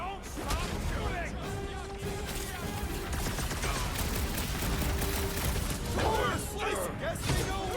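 Dense gunfire in the Guardians of the Galaxy video game, rapid shots and crashing impacts rolling on continuously, mixed with game music and effects while voices talk over the action.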